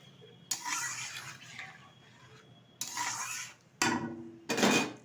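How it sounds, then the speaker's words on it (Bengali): Fish roe curry with giant taro is stirred in a pot, several short bursts of spoon scraping and wet shuffling against the metal, separated by quiet pauses, close and fairly soft. "আবার একটু নাড়িয়ে দেবো।"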